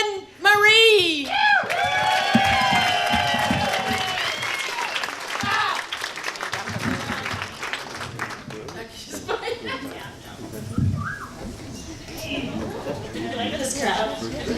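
Stand-up comedy gala audience claps as a first-time comedian comes to the stage, steady applause with scattered chuckles and chatter, under an announcer's voice at the start and talking throughout.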